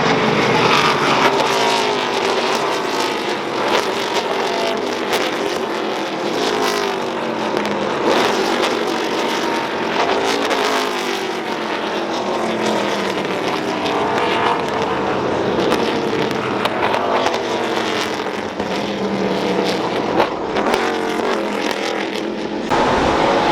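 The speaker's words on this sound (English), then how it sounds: "Watch them all downshift when they get this turn right here." NASCAR race cars at the Daytona road course roar past in a dense, loud pack, engines revving up and dropping as they downshift into a turn, overlapping continuously with no talking.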